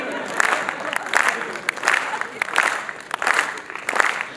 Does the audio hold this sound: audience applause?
yes